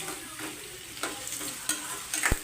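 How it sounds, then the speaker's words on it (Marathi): Mutton masala frying and being stirred in a pan, a steady close sizzle with scraping stirs and a few sharp spatula knocks on the metal, no talking. "चांगलं परतून दे. फ्राय करते."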